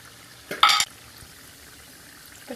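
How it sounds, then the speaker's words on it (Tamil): Mustard seeds and fenugreek hit hot oil in a pan for tamarind rice, giving a short burst of sizzling and crackling that fades quickly, followed by a quiet pause and a faint tap near the end. "இப்போ இதோட கடுகு வெந்தயம் அதையும் போட்டுக்கலாம்"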